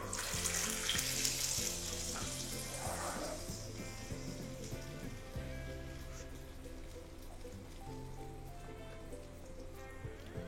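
Millet garelu (udalu garelu) frying in hot oil for syrup-soaked pakam garelu, a steady bubbling sizzle that is loudest at first and then settles, close by, with faint kitchen clinks and tones in the background.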